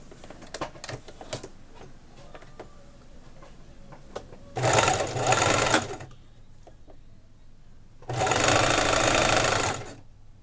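Sewing machine stitching the front band of a cotton batwing blouse, two sustained bursts of about a second and a half each with quiet handling sounds between, close and alone.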